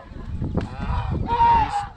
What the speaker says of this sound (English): one looks like an African goose.